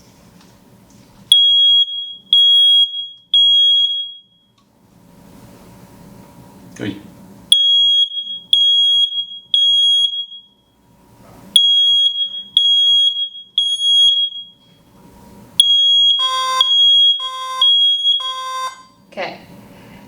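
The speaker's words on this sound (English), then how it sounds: "we right now are going to demo the hearing impaired smoke alarm" A smoke alarm for the hearing impaired sounds repeated bursts of loud, shrill triple beeps, separated by pauses, with low rumbling between them, and a person briefly speaks.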